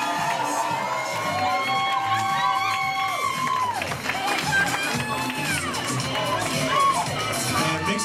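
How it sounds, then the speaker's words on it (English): Wedding guests welcoming the bridal party as a couple is escorted in: a crowd cheering, whooping and shouting with some clapping, loud and continuous, with bright voices rising over the din. "now put your hands together for Emily being escorted by Cody"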